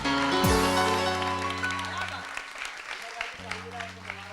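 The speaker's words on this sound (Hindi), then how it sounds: "मोइन साहब के लिए बहुत सारे तालियां" A morning TV show studio audience applauds for Moin Akhtar, scattered clapping rising under and after a swooping musical sting with sustained synth tones that fade and return.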